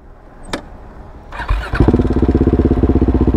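A motorcycle with its kickstand down cranks with a squealing starter and a brief sputter, then settles into a loud, rapidly pulsing engine run close by.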